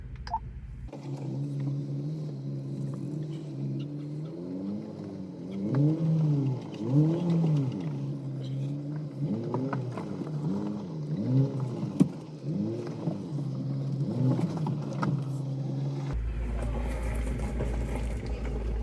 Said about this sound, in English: Bit of a traffic jam here